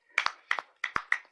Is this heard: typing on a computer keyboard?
no